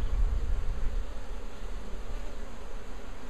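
Agitated honeybees from an opened survivor hive buzzing steadily and close, a dense continuous drone that persists throughout without any talking.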